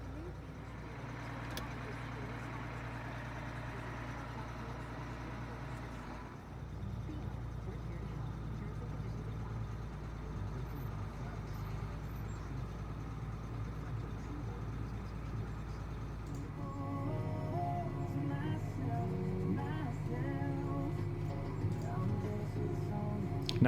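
A Case tractor engine drones steadily while harrowing a field, heard from inside the cab as a constant low rumble that shifts in tone and grows slightly louder partway through.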